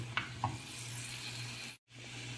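Chopped onion and garlic sauté in a pan with a steady, close sizzle over a low hum, broken by two soft utensil clicks early on and a brief silent gap near the end.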